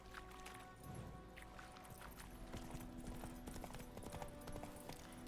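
Geralt's horse Roach galloping in The Witcher 3: The Wild Hunt, a fast, dense run of hoofbeats over game ambience and music, steady and moderately loud throughout.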